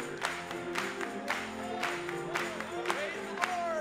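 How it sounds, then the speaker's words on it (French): A church congregation at a French-language service cheers and applauds, with scattered sharp claps and shouts over a steady crowd murmur and voices, moderately distant. "Acclamons pour lui."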